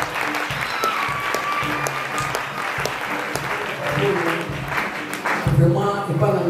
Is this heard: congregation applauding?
yes